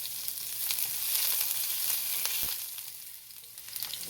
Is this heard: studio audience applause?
no